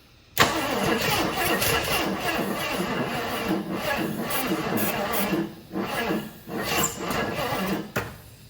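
A 1980 Jeep Wagoneer engine with a dead battery cranks over with a continuous churning roar that starts abruptly and runs for several seconds, sputtering unevenly near the end.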